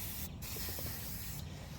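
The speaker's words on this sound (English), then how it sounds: "I usually hit them with a little bit of brake cleaner and wipe them off with a good rag." Brake cleaner hisses from an aerosol can onto front brake parts of a 2007 BMW X3, a steady close spray with brief breaks, no talking.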